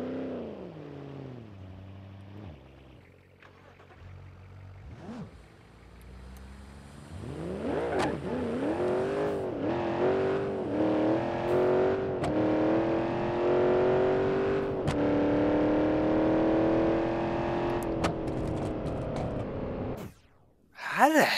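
In the BeamNG.drive video game, a car accelerates hard on nitrous. The engine note climbs through several rising gear pulls and holds a loud, sustained high whine before cutting off abruptly at the end.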